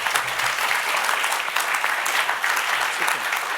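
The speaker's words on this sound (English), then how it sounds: "Can I ask everybody for one big round of applause to our panel" A conference audience applauds a panel steadily for a few seconds, a dense, even patter of many hands clapping with no voices over it.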